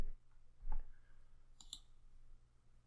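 A single sharp mouse click on a link, heard once in a quiet room, with a faint knock just before it.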